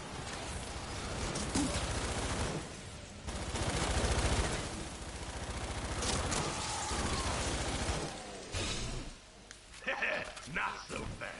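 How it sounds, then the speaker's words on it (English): Rapid, sustained bursts of automatic turret fire in the video game Fortnite: Save The World, dense rattling volleys that continue for several seconds and then thin out into scattered impacts, with a voice talking over them. "Now I got all those turrets stealing from them."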